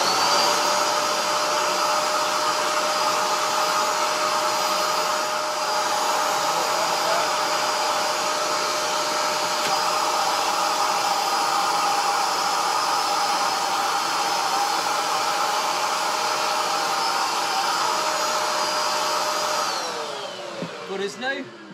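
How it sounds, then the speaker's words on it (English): A Bissell Spotclean Pro carpet cleaner runs over carpet with a loud, steady motor whine and airflow roar, then winds down at the very end. "All we've got to do is just try and hoover the carpet and make sure it works."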